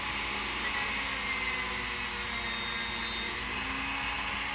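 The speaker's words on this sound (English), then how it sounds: "Now, going to sand it down," A half-inch wooden popper cube being sanded flat, a steady, continuous abrasive hiss with no pauses, close and fairly loud, heard alone without any talk.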